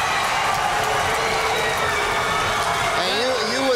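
Loud, continuous roar of a packed crowd cheering at a high school basketball game in a gym, sustained throughout with whistling and shouts rising near the end.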